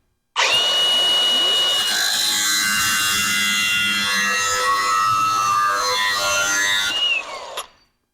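A cutoff tool cutting metal in a home garage: one continuous high-pitched whining grind lasting about seven seconds, loud and close, steady throughout before spinning down, with no talking.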